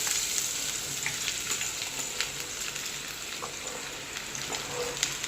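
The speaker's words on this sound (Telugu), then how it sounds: "ఆయిల్లో మనం ముందుగా కట్ చేసి పెట్టుకున్న బీరకాయ ముక్కలు" Ridge gourd pieces fry in oil in a kadai, a steady close sizzle with occasional pops and crackles throughout, no voice over it.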